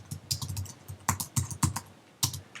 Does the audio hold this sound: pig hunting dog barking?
no